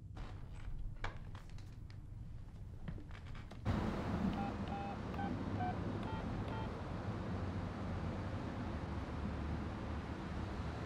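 A telephone being dialed in a family comedy film, with a short run of faint tone-like beeps heard under wind and surf-like background noise.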